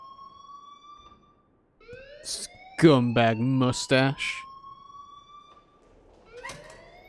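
An alarm sounds in the Life Is Strange video game, a steady tonal whine heard faintly under a voice speaking.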